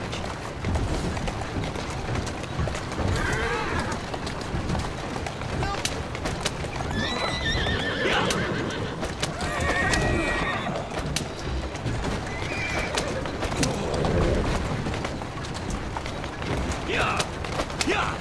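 Horse-drawn carriage in the video game Assassin's Creed Syndicate, with continuous rapid clip-clop of hooves and rattling wheels, horses neighing and whinnying several times, and voices talking over it throughout.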